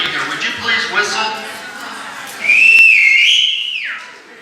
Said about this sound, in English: Would you please whistle?